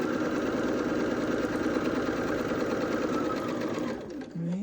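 A sewing machine runs steadily and close, stitching a seam through a red, white and blue Lemoyne star quilt block, a continuous rapid mechanical whir that slows and stops at the end.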